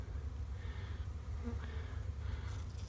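A steady, close buzz of many honey bees around beehive nucs in February fills the scene, with individual insects droning past now and then.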